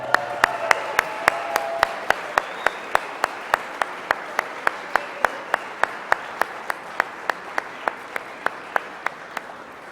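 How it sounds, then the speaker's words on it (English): Clapping at the 2012 CBA Awards of Excellence honours the stations of the year, heard as a regular train of sharp, evenly spaced claps over a softer bed of applause that runs steadily throughout. "big round of applause for all of our stations of the year for 2012"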